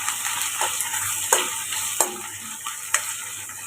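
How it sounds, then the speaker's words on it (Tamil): Dried fish (karuvadu) frying in oil in a pan with a steady sizzle, while a spoon stirs and scrapes against the pan in a few sharp, irregular knocks. "அப்படியே கருவாடு பொரிஞ்சு வரட்டும்."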